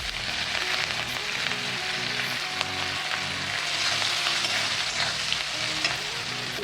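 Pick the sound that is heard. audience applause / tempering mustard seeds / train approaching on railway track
tempering mustard seeds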